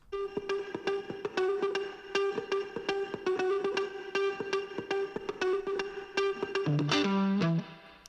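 A picky, plucked guitar part from a music production, bright repeated notes in a tight rhythmic pattern with effects, ending in a few lower sustained tones, played alone.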